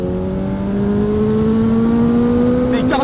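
A Honda CBR1000RR-R SP sport motorcycle, rated at 217 horsepower, revs hard on the road as the throttle opens. The engine tone climbs steadily in pitch for three seconds, loud and close throughout.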